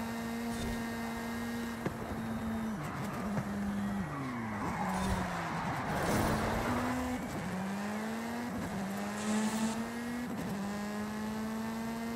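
Race car engine in Forza Horizon 5 revving and holding steady tones, with repeated sharp gear shifts dropping and climbing the pitch over about twelve seconds, plus some tire squeal, loud and continuous.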